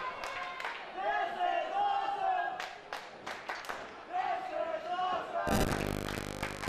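A wrestling crowd at a multi-man match roars and chants in rising waves, with shouts and rhythmic clapping mixed into a dense, loud babble that swells sharply near the end.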